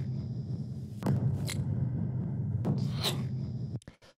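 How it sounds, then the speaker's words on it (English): A deep, sustained low impact rumble layered under a kick drum swells beneath a few sharp clicky transients, then cuts off abruptly near the end. "the last thing that I have in this drum group is this sort of like impact sound"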